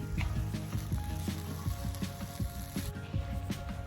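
Fried rice with soy sauce being stirred in a pot-belly pot over an outdoor bush fire: steady close sizzling with a regular series of scraping, clinking stirs, no voices.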